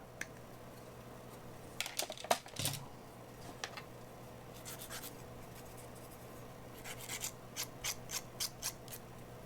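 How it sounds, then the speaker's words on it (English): Small plastic parts of a Millennium Falcon scale model being snipped and trimmed, quiet close clicks and scraping cuts in scattered bursts, with a cluster of sharper snips in the middle and a run of light ticks toward the end. "We'll cut this off at the angle. Cut this off down at the other end."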